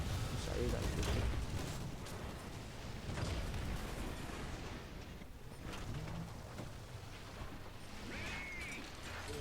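Tank cannon shells firing in War Thunder ground battles, with a Tiger II tank in play: a dense, loud, continuous wash of booming gunfire and rumbling battlefield noise, with a short lull midway and no speech over it.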